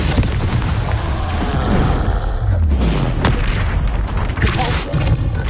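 Confringo fire spell blasting in Hogwarts Legacy, a loud, continuous rumbling burst with crackling impacts and dense noise through the whole stretch, layered with game effects.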